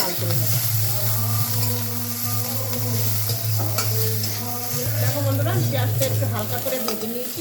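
Onions fry in a kadai with a steady, dense sizzle that runs unbroken from start to finish at close range. A constant low hum and some faint tonal sounds sit beneath it.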